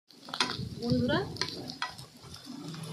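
Ginger paste is sautéed and stirred with spices in a pan for an egg curry, giving a quiet, steady sizzle broken by a few scraping strokes of the spoon.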